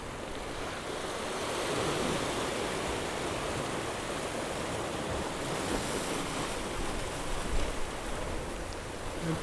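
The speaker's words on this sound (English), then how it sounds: "the sea is really rough here" Rough sea on the rocky coast of Madeira, a continuous loud roar of breaking surf and rushing water with swelling surges, no voices.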